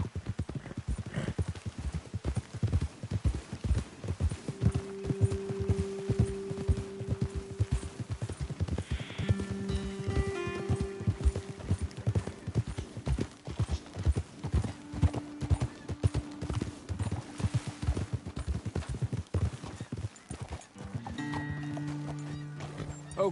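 Horse hooves clip-clop steadily through a Red Dead Redemption game scene, a continuous trotting rhythm with occasional whinnies and a musical score layered over it, no talking.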